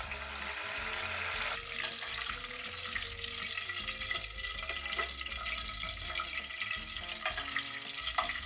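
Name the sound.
food frying in oil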